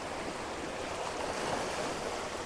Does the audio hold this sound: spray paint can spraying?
no